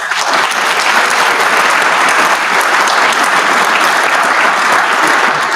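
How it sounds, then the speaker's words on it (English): An audience at a law enforcement Hall of Fame awards ceremony claps loudly and steadily, a dense wash of many hands that holds at full strength throughout with no pauses or talk. "Another round of applause for them"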